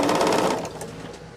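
A sewing machine stitching, its needle dropping back down to finish a seam, with a close, loud, rapid rattling hum that slows and fades over about a second.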